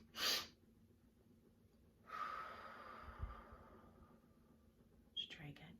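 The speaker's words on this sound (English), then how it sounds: "Let's take our 3 quick little breaths." Three quick sniffing breaths taken through the nose during a children's breathing exercise, soft and close, spread out with pauses between them and no talking over them.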